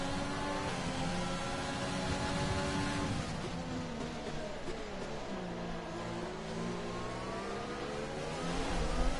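Racing cars accelerate together at Spa-Francorchamps in a racing video game, engines whining and climbing in pitch continuously at steady volume after a safety car restart.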